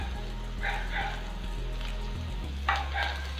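Chopped onion frying in oil with turmeric and salt in a pan for bread pakoda filling, giving a steady close sizzle with soft clinks and brief stirring scrapes, no talking.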